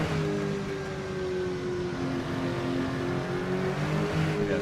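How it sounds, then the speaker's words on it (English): Steady engine drone with sustained tonal hum, a car running over a rumble strip in the racing game Rennsport, continuous and fairly loud throughout, no talking. "Listen to that sound on the ripple strip."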